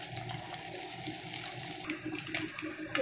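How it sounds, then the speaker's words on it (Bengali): Small fish being deep-fried in hot oil, a steady broadband hiss of frying running continuously and fairly close throughout, with no talking. "এবার মাছগুলোকে আমি ছেড়ে দেবো, এইভাবে ছেড়ে দেবো, দিয়ে সুন্দর করে ভেজে নেব।"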